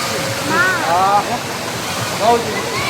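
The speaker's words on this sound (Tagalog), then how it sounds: "Ayan yung kabuuan ng Baliti Falls." Balite Falls waterfall in Amadeo, Cavite, a steady rushing roar of falling water close by, with birds chirping briefly over it.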